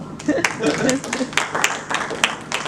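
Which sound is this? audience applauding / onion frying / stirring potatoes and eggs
audience applauding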